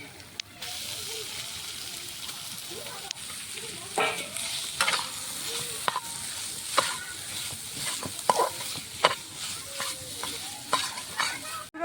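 Minced deboned fish stirred into a spice masala in a frying pan for Bengali fish chops: a constant soft sizzle with repeated close spatula scrapes and clinks against the pan, irregular and growing busier over time.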